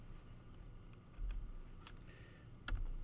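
A few quiet keystrokes on a computer keyboard, scattered clicks spaced over a couple of seconds against a faint low hum, close and with no voice.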